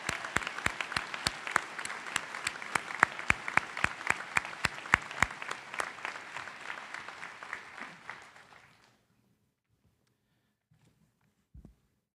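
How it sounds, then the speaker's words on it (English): An audience breaks into sustained applause at a college presidential investiture ceremony, with dense, steady clapping and a few sharper claps that fade out around nine seconds, followed by near silence and a brief thump. "Please join me once more in a round of applause for Orlando Health"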